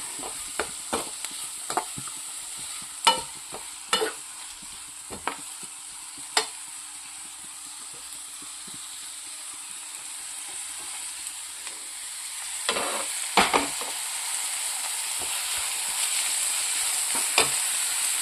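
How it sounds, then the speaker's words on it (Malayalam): Chopped banana flower goes into translucent frying onions and is stirred, giving a continuous sizzle with scattered spoon scrapes and clicks that grow louder and hissier near the end. "വാഴ കൂമ്പ് അരിഞ്ഞത് ഇട്ട് കൊടുക്കാം"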